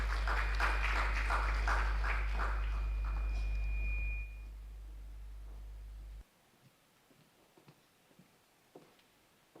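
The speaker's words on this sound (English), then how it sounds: "Please, a round of applause" Audience applause at a Nigerian conference on climate change and the green economy: a few seconds of dense clapping over a low steady hum, which then stops abruptly, leaving a quiet room.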